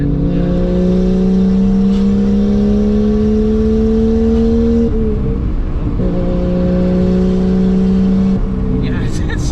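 Lexus IS300 with a 1JZ engine and straight-pipe turbo exhaust, droning loud and close at a steady, slowly rising pitch, with a brief dip near the middle before settling back into the same raspy hum.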